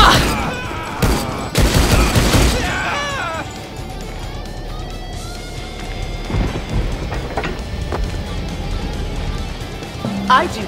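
In the Rise of the Triad remake, the first level opens with loud rapid bursts of gunfire crowded together over the first couple of seconds. Grunts, game voices and scattered effects follow, fainter.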